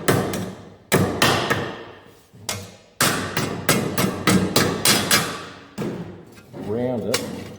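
A hammer strikes a metal corner of a Ford XB Falcon GS panel, rounding it with the peen end in a series of sharp, close ringing blows in uneven bursts, with short pauses between groups.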